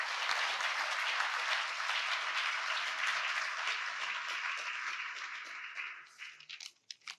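Audience applause at a maritime security dialogue on alliances, steady and dense for about six seconds before thinning into scattered final claps.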